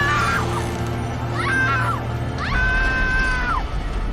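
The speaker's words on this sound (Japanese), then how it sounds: "めっちゃ悲鳴聞こえるな。" Screaming in the video game SCP: Secret Files: several drawn-out, wavering cries rise and fall over a steady low hum, each lasting about a second, fairly loud and alone.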